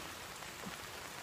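Torrential rain from a summer storm with tornado reports, a steady soft wash of falling water, fairly faint and continuous with no voices.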